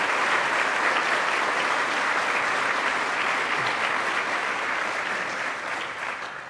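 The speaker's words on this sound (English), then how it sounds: "So let's give a round of applause to our county executive," A crowd at a political event gives a loud round of applause for a county executive, dense continuous clapping that stays strong throughout and eases slightly in the final second.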